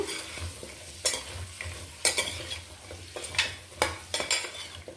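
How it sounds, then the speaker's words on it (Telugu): Vegetable pieces fry with curry leaves over a medium gas flame for sambar, a steady sizzle broken by repeated scraping stirs of a metal spoon against the pan, close and clear with no talking. "కొంచెం కరివేపాకు ఇలా ముక్కలు వేగేటప్పుడు గ్యాస్ మీడియం ఫ్లేమ్లో పెట్టుకొని వేయించుకోండి"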